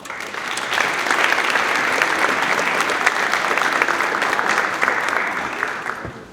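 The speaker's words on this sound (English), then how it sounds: "Please join me in a round of applause to thank your families." Full, continuous applause from an audience at a high school National Honor Society induction ceremony, thanking the inductees' families, holding strong and even for several seconds.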